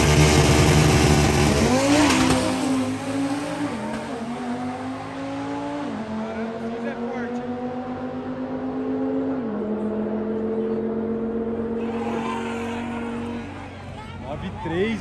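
A Lamborghini launches hard down a drag strip, its engine roaring loud and close with rising, stepped gear-change pitches over about fifteen seconds, crowd babble underneath.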